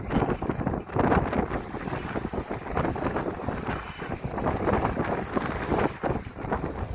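A sailboat heads through rough open sea in 20 to 23 knot winds with a reefed headsail. Steady, loud wind buffeting and rushing water fill the whole stretch, rising and falling in gusts, with no voices.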